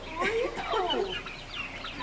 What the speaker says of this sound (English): These turkeys are about 3 weeks old.